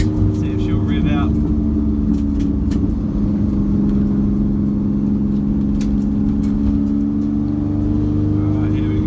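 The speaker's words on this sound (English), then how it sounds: "So after this bridge down here, I'm going to give it a second gear pull," Car engine held in second gear on a road, warmed up and pulled hard toward redline, a loud steady low rumble filling the whole stretch with faint higher whine on top and no talking.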